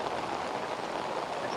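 Heavy, steady rain in Jubilee Hills, Hyderabad, falling nonstop for about two hours: a dense, even roar of downpour with no pauses and no voices.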